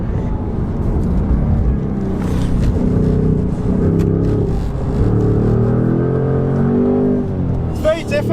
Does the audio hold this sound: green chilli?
no